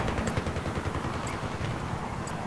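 A helicopter gunner's weapon in Battlefield 3 on the Sharqi Peninsula map fires a steady, rapid stream of shots that stays loud and unbroken throughout, with no voices.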